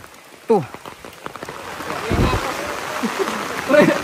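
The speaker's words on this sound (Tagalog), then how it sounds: "Uwi na ako kasi umuulan eh." Steady rain patters and hisses in the background while a person speaks over it, with occasional splashes and louder bursts of falling water.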